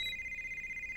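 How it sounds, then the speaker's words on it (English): A cell phone rings in a Bob the Builder cartoon, a steady high electronic warble pulsing quickly for a second, clear and alone. "That sounds like my cell phone."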